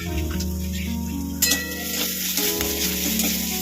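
Paneer masala with ginger paste, salt, Kashmiri chili powder and a little sugar sizzles steadily in a pan while being sautéed, with a sharp clink of the spoon near the middle and no talking.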